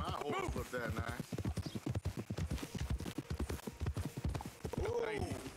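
Horse hooves clip-clop in a steady, close rhythm in the video game Red Dead Redemption 2, with a brief whinny and someone talking over them.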